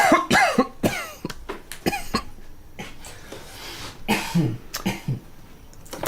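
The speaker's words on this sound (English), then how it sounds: "Did you just cough?" Several sharp coughs and throat-clearing sounds in quick succession, close and loud, with short pauses between bursts.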